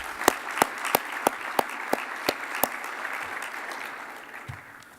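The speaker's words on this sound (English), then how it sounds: "Let's give them another round of applause." Audience applause at the 2019 AEMP Hall of Fame induction ceremony, a dense wash of clapping with a few sharp, louder claps standing out near the front, steady for several seconds before thinning out toward the end.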